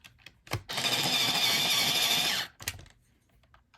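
Electric pencil sharpener grinding a colored pencil, a steady close whir lasting almost two seconds, framed by brief handling clicks before and after.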